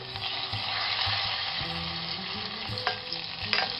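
Butter hits hot caramel in a pan for a tarte tatin, giving a steady close sizzle with bubbling and stirring scrapes, with no talking.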